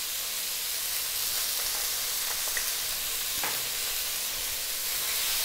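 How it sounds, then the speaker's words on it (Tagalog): Chopped garlic dropped into very hot oil alongside cooking chicken for fried rice, a loud continuous sizzle and hiss with faint stirring scrapes underneath. "habang niluluto natin siya, mag-a-add na rin po tayo ng chopped garlic."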